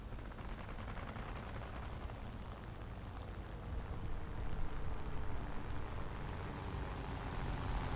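Machine guns fire from a French Yak-3 fighter plane in a War Thunder air battle, a dense, continuous rattle layered over the steady roar of the engine, growing slightly louder toward the end.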